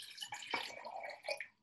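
Plain water poured into a glass, a short close trickle and splash lasting under two seconds before trailing off.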